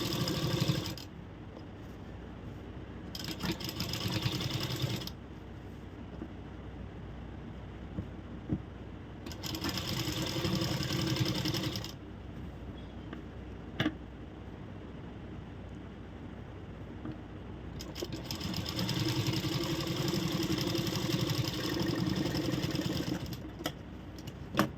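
A sewing machine runs in three bursts while stitching along the neck of a blouse, each burst a steady mechanical whir separated by pauses, fairly close and heard alone.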